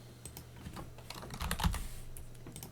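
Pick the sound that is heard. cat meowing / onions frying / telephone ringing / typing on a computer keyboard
typing on a computer keyboard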